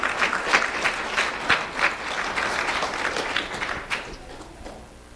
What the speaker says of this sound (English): Let's have a round of applause for Reed Spicker